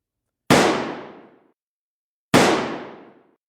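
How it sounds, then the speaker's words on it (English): Two sharp explosion bursts from a balloon-popping Android app, each a sudden loud blast that decays over about a second, spaced well apart with silence between. "As you can see, there's an explosion sound and the background picture changes."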